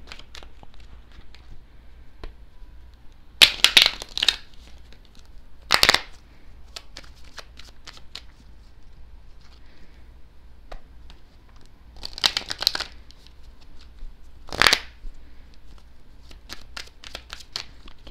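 Oracle cards being shuffled by hand in several separate bursts of riffling and crisp papery rustle, close and fairly loud, with quiet pauses between them.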